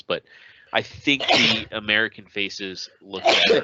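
A sneeze bursts out near the end of a podcast conversation, sharp and close, following steady talk from several speakers.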